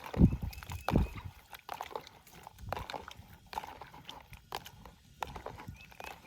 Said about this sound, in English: submerge them in here for a little bit and give them a good little shake around, rinse them off just to get the worst of the dirt off